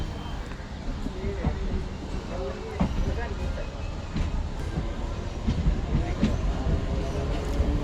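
A MEMU passenger train rolls along the rails between Renigunta and Nellore with a continuous low rumble and irregular clacks and knocks, heard from inside or close by, with people talking.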